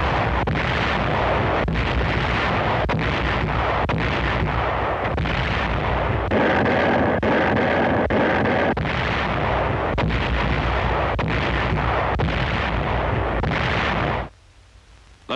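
U.S. artillery fire in archival war footage from the Pacific battle for the Marianas: a dense, continuous roar of booming blasts and rumbling explosions, loud and close, ending abruptly in near silence.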